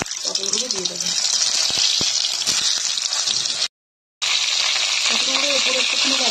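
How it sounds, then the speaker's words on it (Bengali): Pointed gourds (potol) dropped one by one into hot oil with a little turmeric, giving a steady, loud hiss of frying that runs continuously, briefly cuts out, then resumes. "এরপর এখানে আমি এক এক করে পটলগুলো দিয়ে দেবো"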